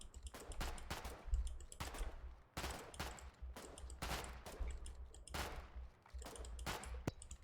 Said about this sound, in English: Keep shooting at this crane.